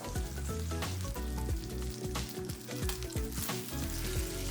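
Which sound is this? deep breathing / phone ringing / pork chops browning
pork chops browning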